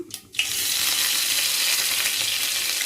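Green chillies dropped into hot oil, a brief clatter before a sudden loud burst of sizzling that then settles into a steady, even crackle, with no voices.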